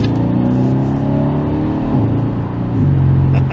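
A Mercedes C63 AMG W205 in comfort mode downshifts after a brief lag, then its engine surges under hard acceleration, a loud, steady roar that rises through the shift with no voices.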